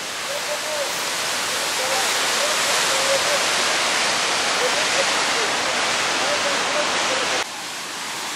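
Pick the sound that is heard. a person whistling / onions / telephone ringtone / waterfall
waterfall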